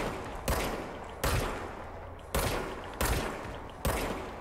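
Blind fire from a weapon in the video game Control: five or six loud, heavy gunshots spaced irregularly, each followed by a long reverberating tail, with no talk over the shots.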